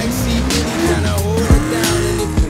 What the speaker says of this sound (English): We just smashed the three trailers.